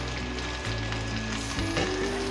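Byadgi chillies fry in a pan for a home-style Masinga Sanga Talasani, giving a steady, close crackling sizzle over a faint low hum.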